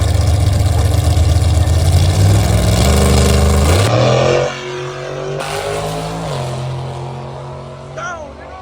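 Drag race cars, a Mustang and a big G-body, launching at Carolina Dragway: loud engines rev and roar off the line, rising in pitch before dropping away into more distant drone, with a brief later engine sweep.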